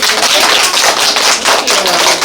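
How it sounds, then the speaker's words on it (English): A round of applause rings out at a celebration, dense steady clapping from a crowd that holds at full volume for a couple of seconds. "can we give a round of applause to"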